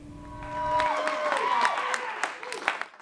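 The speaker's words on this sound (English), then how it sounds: "give him a round of applause" An audience gives a round of applause for a performer at a live music showcase, a steady wash of clapping that swells and carries on beneath someone talking.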